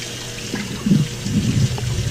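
Warm tap water runs steadily while a ham is rinsed by hand in a kitchen sink, a close, continuous splashing and trickling with small swells as the meat shifts under the stream.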